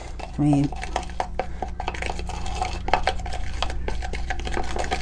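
Multani Mitti fuller's earth clay paste being mixed in a bowl, with repeated close scraping and clinking of a utensil against the bowl, a short tonal beep near the start and a low steady hum beneath.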